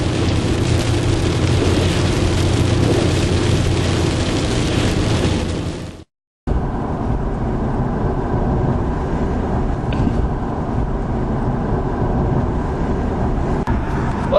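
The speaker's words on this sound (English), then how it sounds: "Take a look at the rain." Heavy rain drums loudly and continuously on a car driving along Pennsylvania Route 414, with a brief silent gap before the downpour and road roar resume.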